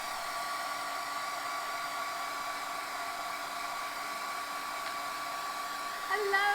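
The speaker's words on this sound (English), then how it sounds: "a quick blow dry" A hair dryer blows steadily over wet paint on a commissioned painting, a constant close whirring hum running uninterrupted, with a slight shift in airflow near the end.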